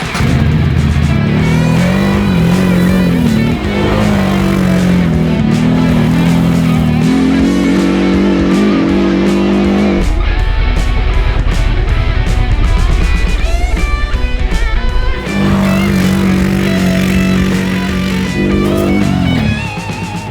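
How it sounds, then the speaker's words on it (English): A CFMOTO CFORCE 1000 ATV fitted with an aftermarket exhaust roars close by on a test ride, its engine note rising and falling through repeated throttle pulls and shifts, loud and continuous with no talking. "I was afraid the exhaust was gonna be too loud"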